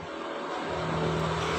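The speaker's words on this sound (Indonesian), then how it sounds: "Dipendekkan pakai mesin terlebih dahulu, seperti ini caranya." An electric hair clipper cuts hair short, its motor giving a steady, close buzzing whir that stays even and strengthens slightly as it works.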